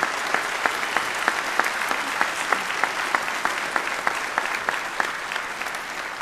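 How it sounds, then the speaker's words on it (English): A graduation audience breaks into sustained, loud applause: many hands clapping in a dense, continuous wash with a few sharper claps standing out and no speech on top. "Seniors, how about a round of applause for all those who helped you?"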